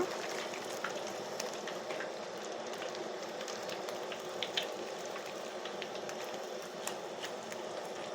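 Pieces of village pond fish fry in a pan with a steady, even sizzle that fills the whole stretch, moderately loud and close, broken by occasional faint pops and crackles, no talking.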